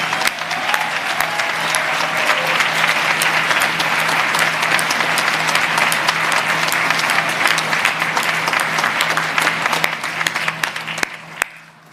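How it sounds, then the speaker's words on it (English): A crowd at a Veterans Day breakfast in New York applauds veterans, including World War II veterans, with loud, continuous clapping for about eleven seconds over a low steady hum before it tapers off to a few last claps. "Please let us give them a round of applause."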